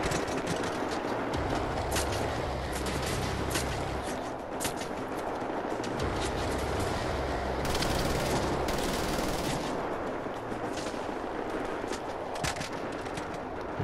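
Gunfire in the shooter Wolfenstein: The New Order: sustained automatic bursts rattle loudly and nearby, with heavier low thumps underneath and short gaps between volleys.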